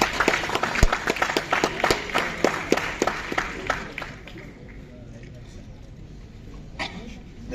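A university audience claps for a professor, brisk scattered applause for about four seconds before fading to quiet room tone with a few faint sounds.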